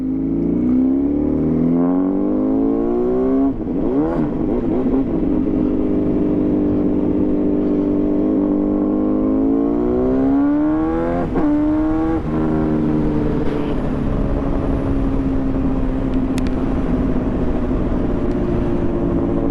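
A Honda CBR Fireblade engine drones loud and close while the motorcycle is ridden on new Rosso 3 tires on a cold day, its pitch climbing through revs and dropping at gear changes before rising again.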